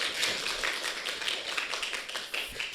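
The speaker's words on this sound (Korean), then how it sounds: "크게 박수 한번." Applause from an audience at a lecture in a Seoul National University Asia Center series, a dense patter of hand claps running steadily throughout at moderate level.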